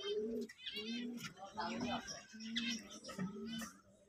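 Pigeons in a loft, recently dewormed, cooing in repeated low rolling calls close by, several overlapping throughout with faint chirps in the background.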